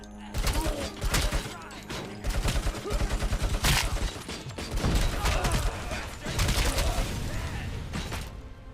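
A gun in Robocop: Rogue City fires repeatedly in quick rhythmic bursts, sharp and steady, mixed with mechanical clatter and thuds throughout.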